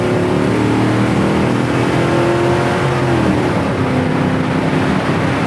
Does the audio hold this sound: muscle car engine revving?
yes